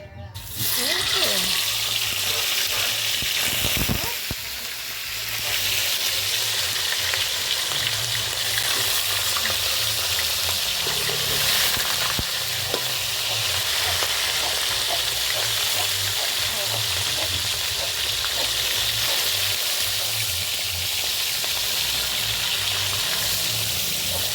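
Fish frying in hot oil gives a loud, dense, unbroken sizzle that holds steady throughout, with faint voices now and then beneath it.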